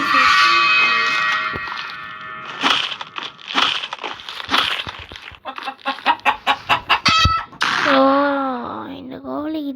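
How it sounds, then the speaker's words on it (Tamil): A chicken clucks and squawks in the subway horror video game Subway Horror Chapter 2, with bursts of rapid clucking and a shrill drawn-out squawk near the end, mixed with other loud in-game noises. "இந்த கோழிக்கிட்ட தான் அடி வாங்கிட்டே இருக்காங்க."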